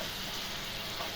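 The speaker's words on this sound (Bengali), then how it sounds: "তো আমি ঢাকনাটা উঠে এখন আবার নেড়ে দিব।" A big prawn curry cooking in a pan gives a steady, even frying sizzle close by, with no distinct stirring strokes and no talking.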